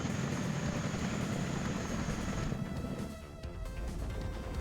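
Chinook helicopters fly in over a WARNO battle as a loud, steady rotor and engine roar that eases off slightly after about three seconds.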